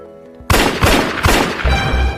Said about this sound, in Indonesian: Tiba-tiba terdengar 3 kali suara tembakan.